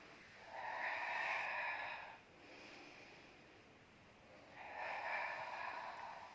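Slow, deep breaths during a Pilates exercise, close and fairly soft: a long airy inhale, a brief pause, a quieter stretch, then another long breath, with no talking.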